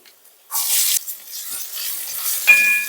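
Chopped onion, garlic, ginger and green chillies hit a hot pan with a sudden loud sizzle that settles into a steady frying hiss, close by, with a brief high beep near the end.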